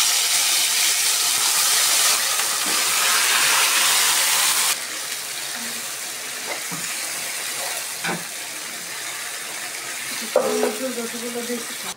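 Chicken meat tossed into a hot pan with two bay leaves, a loud broadband sizzle that drops at about five seconds as it settles into a steady frying hiss, with a few clinks and brief faint voice sounds near the end.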